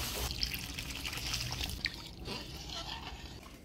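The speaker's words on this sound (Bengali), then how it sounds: "এবার জল দিয়ে দিই।" Water poured into a pot of mutton browned with papaya, cooking over a village clay stove, giving a steady close splashing stream for a few seconds with small drips and no talk.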